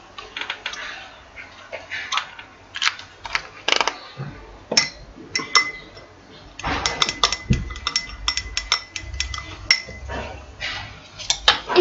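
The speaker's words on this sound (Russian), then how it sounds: "Хорошенечко перемешиваем" Soap mixture stirred in a container for a handmade rose soap gives irregular clinks, taps and scrapes, some sharper knocks scattered among quieter rubbing, close up and fairly busy throughout.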